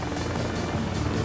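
Helicopter rotor and engine from the combat flight game Heliborne, a steady, loud, broadband drone with rhythmic blade pulsing, heard alone and close.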